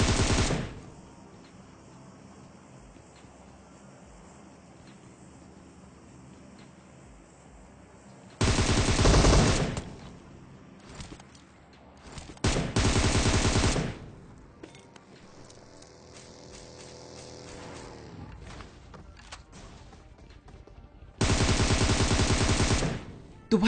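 Loud bursts of automatic gunfire from the battle royale game PUBG, fired in three separate long volleys over a steady background of game ambience.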